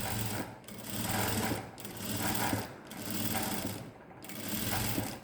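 A sewing machine runs in four steady bursts of stitching along the edge of a designer blouse, the motor whirring loud and close with brief pauses between runs.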